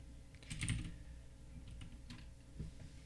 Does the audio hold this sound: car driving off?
no